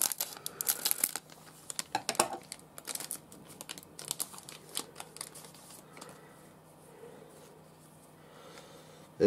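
A 2024 BBM baseball card pack being torn open, dense crinkling and ripping of foil wrapper up close for the first few seconds, then quieter card handling and sliding with sparse crinkles.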